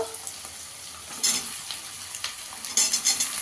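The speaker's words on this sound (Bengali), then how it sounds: "শিমটাকে দিয়েও একটু ভেজে নেব।" Green beans frying with potatoes in a pan, a steady close sizzle broken by a few louder bursts and scraping stirs from a utensil, with no talking.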